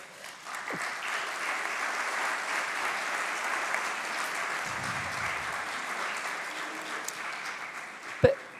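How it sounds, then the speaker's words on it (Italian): Sustained applause from a conference audience, steady clapping throughout with no talking, ending in a sharp louder clap or knock. "A loro rivolgerei un caloroso applauso."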